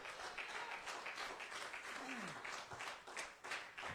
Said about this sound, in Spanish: Denle un aplauso al que vive y reina para siempre.